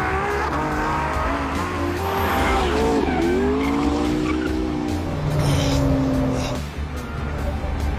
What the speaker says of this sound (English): took the cars out to get a sense of how they handled